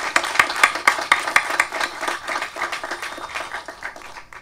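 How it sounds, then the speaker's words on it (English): An audience at a public event in Boyertown, where Senator Bob Casey is promoting a Berks County rail project, breaks into applause: a burst of clapping that is strongest in the first seconds, then thins and fades. "Please join me in a round of applause."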